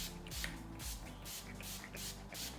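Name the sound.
makeup setting spray sprayed on face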